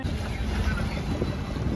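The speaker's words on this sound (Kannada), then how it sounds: "ಇಲ್ಲಿ ಫುಲ್ಲು ನದಿ ನೀರಲ್ಲಿ ಬೋಟ್ಗಳು ಸಿಕ್ಕಾಬಟ್ಟೆ ಸಾವಿರಾರು ಬೋಟ್ ಇರ್ತವೆ" A boat on river water in Alappuzha, Kerala, moves along with a steady low rumble and rushing water, heavily mixed with wind buffeting the microphone throughout.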